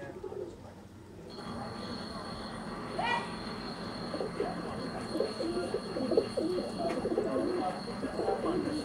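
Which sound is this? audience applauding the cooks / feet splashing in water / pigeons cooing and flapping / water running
pigeons cooing and flapping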